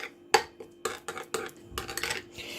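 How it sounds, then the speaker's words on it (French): A sauce seasoned with salt is stirred in a bowl with cutlery, giving sharp metallic clinks and scrapes in an irregular rhythm, close and fairly loud, with no voices. "Je vais bien mélanger."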